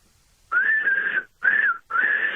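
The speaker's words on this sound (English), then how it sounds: "Whistle away." A person whistling three sustained, wavering notes in close succession, clear and fairly loud against near silence, each tone held for under a second with short gaps between.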